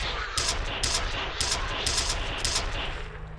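Gunfire in a video game cracks out in short bursts of rapid shots, loud and close, repeating several times over a constant background hum.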